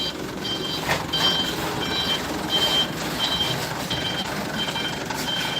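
A vehicle backs slowly onto the Tigaras car ferry at Lake Toba, its reversing alarm beeping in a regular repeating pattern over a low idling engine and harbour background noise.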